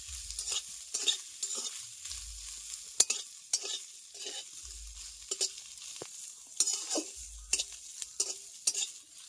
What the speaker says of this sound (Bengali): সয়াবিনগুলোকে একটু ভালো মতো ভেজে নিতে হবে, তবে এর গন্ধটা চলে যাবে